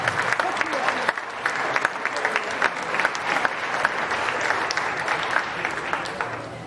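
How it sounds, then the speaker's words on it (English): Audience applause for champions at a county fair llama and alpaca show, sustained clapping from a crowd with sharp individual claps standing out, moderately loud and continuous. "Give them a round of applause."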